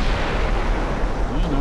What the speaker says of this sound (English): That torpedo is going to hit a little further back